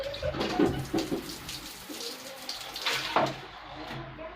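Running water splashes steadily while a face is washed, a close, continuous wash of sound with a few brief bits of talking mixed in.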